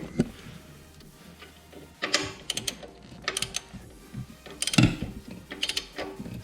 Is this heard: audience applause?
no